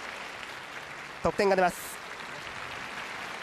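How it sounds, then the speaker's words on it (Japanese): Crowd applause fills a figure skating arena at the 2002 World Championships after a pairs short program, a steady wash of clapping under a commentator's voice. "場内から大きな拍手が起こっていますが"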